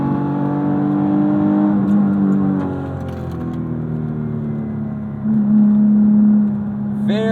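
A 2006 Mitsubishi Eclipse GT engine pulled hard through the revs, a loud close drone climbing in pitch, easing briefly at a shift, then rising again toward the top end, with no talking over it.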